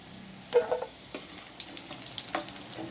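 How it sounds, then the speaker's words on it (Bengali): Potatoes fry in hot oil in a wok, a soft sizzle broken by several short scraping stirs of a ladle, close and fairly quiet, with no talking. "দেখুন আমার আলুগুলো লাল লাল করে ভাজা হয়ে গেছে"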